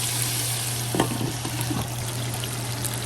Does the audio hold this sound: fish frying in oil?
yes